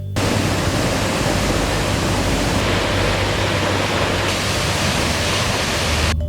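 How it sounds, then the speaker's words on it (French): Métché waterfall near Bafoussam, Cameroon, a peaceful cascade set in greenery, pours in a steady, dense, full-bodied roar that continues without a break throughout. "paisible cascade nichée dans la verdure"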